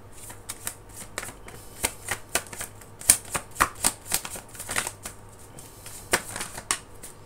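Tarot cards are shuffled and drawn, giving close crisp riffling taps and flicks in an uneven rhythm, sharp snaps standing out over a low background hum.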